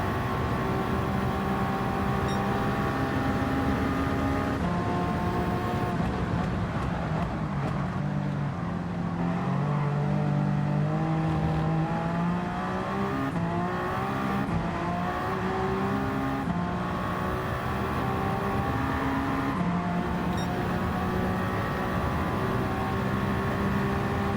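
Continuous droning engine noise of racing cars in Gran Turismo 7 at Petit Le Mans, steady and loud, with pitch rising and falling as engines rev and shift, no talking.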